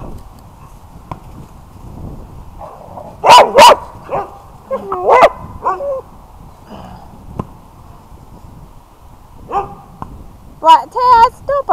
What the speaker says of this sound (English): Black Taz, don't bark at him.